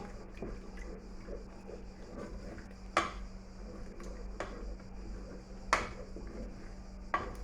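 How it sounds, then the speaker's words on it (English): Agidi jollof made with corn flour is stirred in a pot on a Nigerian home stove, with faint soft scraping and several sharp clacks of the spoon against the pot over a low steady hum. "Keep on stirring so that the agidi will not have seeds."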